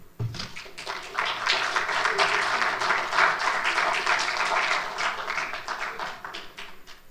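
An audience at an engineers' week debate gives the debaters a sustained round of applause, many hands clapping in a dense, even patter that swells early and holds steady before tapering off near the end.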